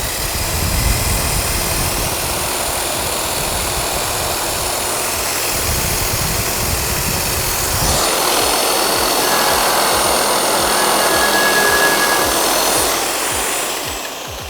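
A JBMF-60 brush and polish prep machine runs an airway buff at low RPM, giving a steady, loud mechanical whir and broadband polishing hiss that holds continuously throughout.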